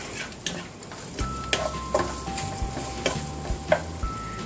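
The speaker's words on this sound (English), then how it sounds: "then we're just going to get these onions moving around a little bit" Onions sizzle in a hot pan while being stirred for vegetable fried rice, a close, steady frying crackle punctuated by repeated scraping and clinking of a utensil against the pan, with a faint tonal hum.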